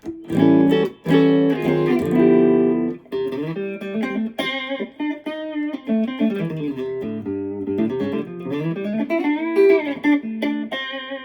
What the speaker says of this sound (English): let me show you the middle position pickup by itself